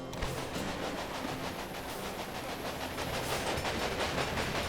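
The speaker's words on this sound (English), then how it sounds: "Two important cities are now connected by an express train." An express train in Railway Empire rolls along continuously, a steady near rumble with rhythmic clickety-clack of wheels over rail joints, no talking.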